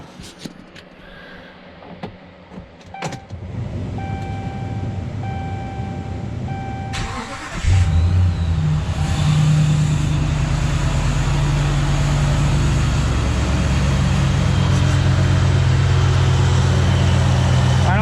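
A 2012 Ram 1500 Hemi V8 pickup cranks and catches, then settles into a loud, steady high idle heard up close for over ten seconds, with some brief clicks and low noises before the start.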